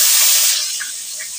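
Chopped onion dropped into hot oil with bay leaf and whole cumin for dhaba-style mutton kasha, giving a loud, bright sizzle that starts strong and settles into a steady, softer frying hiss with a few faint crackles.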